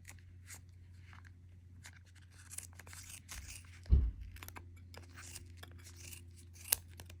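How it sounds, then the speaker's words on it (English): Scissors snipping quietly through yarn for a pom-pom, with one sharper cut midway, over a low steady hum. "cut along the top and bottom edges, just like this. Your scissors should fit nicely on that groove."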